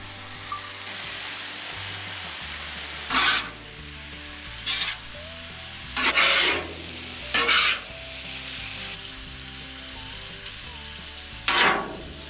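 Bacon sizzles steadily on a griddle at a tiny camping cabin cookout, a constant close frying hiss with several short louder bursts of stirring or scraping, no talk.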